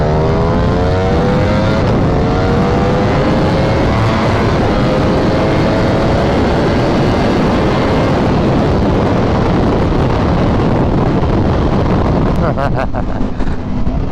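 Ducati Panigale V4S motorcycle engine at speed, a loud, dense roar with rising and falling harmonic tones through gear changes, heavy wind rush over the top and a few sharp crackles near the end.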